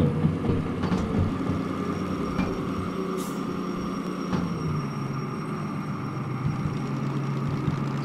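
A DM3 diesel locomotive engine in the game Derail Valley drones steadily and loudly at close range, a low continuous rumble with a few faint clicks and knocks over it.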